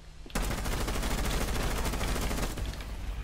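Rapid automatic gunfire in Rainbow Six Siege rattles through a soft wall, a dense, loud, continuous burst of shots that starts abruptly after a brief quieter lead-in and lasts about three seconds.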